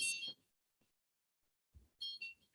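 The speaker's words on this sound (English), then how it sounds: "So you should be hearing an alarm." A monitoring system's alarm sounds in two loud bursts of high, tonal beeping, separated by a quiet gap with a soft low thump.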